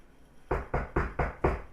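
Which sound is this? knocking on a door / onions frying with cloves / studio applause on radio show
knocking on a door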